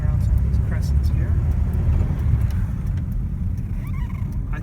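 A 1946 Hudson Commodore 6 with a three-speed manual gearbox cruises through residential crescents, its low steady engine rumble filling the cabin, with faint clicks and rattles over the drone.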